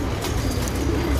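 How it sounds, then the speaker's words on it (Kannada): Breeding Patta pigeons coo softly and close by, in a brief, low, throaty burst against steady background noise, with no talking. "ಇವು ಮೇಯ್ನು ಬ್ರೀಡಿಂಗ್ ಹಕ್ಕಿಗಳು ನಮ್ಮದು"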